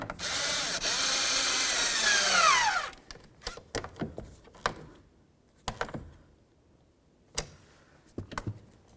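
A power drill snugs up the side mirror bolts on a 2007-14 Ford Edge in one loud, rising whir that winds down, followed by scattered clicks and clunks from handling the tool and parts.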